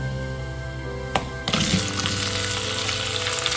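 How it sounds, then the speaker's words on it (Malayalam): Okra frying in hot coconut oil gives a close, steady sizzle. A brief clatter comes as it is added, and then the frying swells louder and fuller. "നമുക്ക് ഇനി ആ വെണ്ടക്കായ നമുക്ക് അതിൽ ചേർത്ത് കൊടുക്കാം കേട്ടോ."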